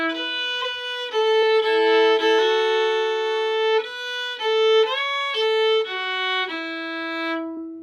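Two phrases of Soggy's, an Irish slip jig, played on a solo bowed string instrument (likely fiddle) with quick slides into notes, close and clean.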